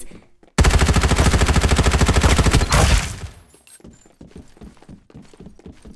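Sustained automatic gunfire from an in-game firefight in the shooter Farlight 84, a loud, rapid, evenly spaced burst of shots lasting over two seconds before it cuts off and gives way to scattered softer impacts and clatter.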